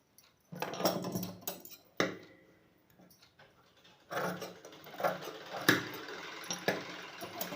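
Scissors cut blouse fabric in short, crisp snips, a few separate cuts followed by quicker bursts of clicking, quiet and close.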